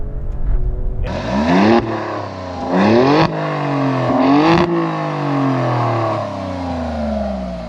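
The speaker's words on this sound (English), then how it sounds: "the exhaust opens up a little bit." A 2021 Alfa Romeo Stelvio Quadrifoglio's exhaust roars through several strong revs, each climbing in pitch and dropping back, loud and close, then settling into a smooth drone.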